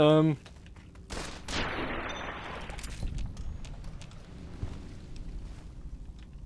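Gunfire from the video game Fallout: New Vegas in the Mojave, one sharp burst followed by a long noisy rumble and scattered lighter cracks, fairly loud and alone.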